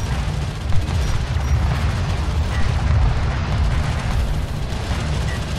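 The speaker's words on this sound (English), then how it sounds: "Enemy railgun firing on friendly." Enemy railgun fire in the video game Homeworld: Deserts of Kharak rumbles as a loud, sustained wash of booming explosions and heavy bursts, with one sharper crack near the start and no voices.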